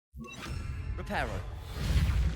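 A Reparo repair spell in the Hogwarts Legacy video game sweeps through with a magical whoosh and shimmering tones, building into a rumbling swell, with a brief voice in the middle.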